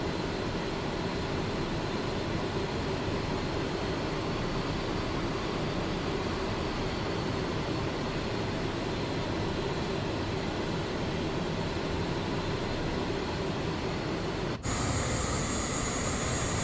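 The jet engines of a simulated Falcon 50 business jet in Microsoft Flight Simulator 2024 spool up with a loud, continuous, broadband roar and whine that holds steady for about fifteen seconds. The noise then shifts abruptly to a brighter, hissier tone, with no speech.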